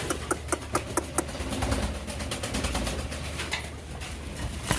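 Pigeons at a wholesale pigeon market, with soft cooing over a steady low hum and a busy background, and several sharp clicks near the start.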